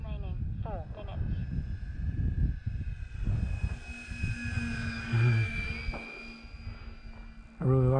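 An E-flite Beechcraft D18 RC model plane flies on a windy, gusty day, its engines a thin continuous whine shifting in pitch as it passes, while someone talks over it throughout.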